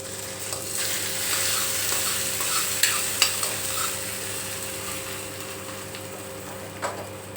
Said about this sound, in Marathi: फोडणी पण चांगली तडतडली आहे